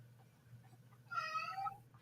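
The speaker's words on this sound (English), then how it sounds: "Shut up, cat." A cat gives a single clear, drawn-out meow indoors, fairly faint and somewhat distant over a low background hum, with no talk.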